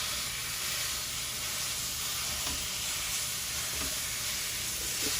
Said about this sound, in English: The first thing we want to do is brown our hamburger.